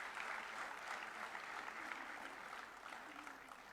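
Audience applause at an All India Council for Technical Education awards ceremony honouring Chhatra Vishwakarma Award winners, a continuous, even wash of clapping, moderately distant and soft, holding steady throughout.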